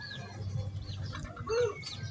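Young chickens about six months old, raised from chicks, cluck and chirp in short scattered calls over a steady low background hum, with one clearer call near the middle.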